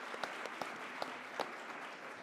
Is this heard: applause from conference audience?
yes